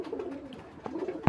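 A pigeon of a fancy, black-tailed breed gives soft cooing calls that are close and fairly quiet, ending in one louder, sharper note.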